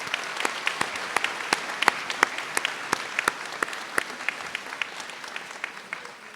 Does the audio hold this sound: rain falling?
no